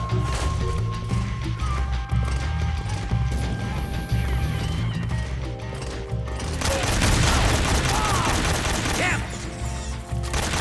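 Gunfire volley in Metal Gear Solid 3: Snake Eater, a dense, continuous barrage of shots and crashing impacts over a busy game soundtrack, loud throughout with a heavier burst in the second half.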